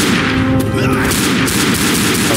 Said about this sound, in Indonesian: SMG aja deh, kita pakai mini Uzi.